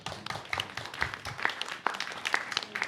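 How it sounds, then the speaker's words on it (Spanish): An audience at a book presentation claps in a short, scattered burst of individual hand claps, fairly faint and a little distant, lasting under three seconds with no voices over it. "Un aplauso, por favor."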